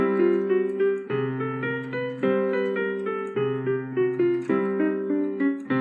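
Solo piano plays a chromatic exercise, a bass note and then a chord on every fourth step, in a steady rhythmic pattern of repeated chords that moves up by semitones, clear and close.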